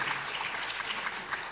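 Quiet, steady applause from a church congregation, a brief even wash of clapping with no voices over it.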